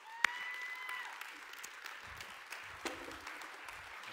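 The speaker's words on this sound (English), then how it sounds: "give a huge round of applause for Jeremy as he comes to speak for us today" A church congregation applauds a guest speaker across three campuses, steady moderate clapping with a few sharper claps, heard from a distance in a large room.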